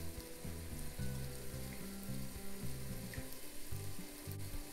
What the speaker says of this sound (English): Now let's scramble those eggs.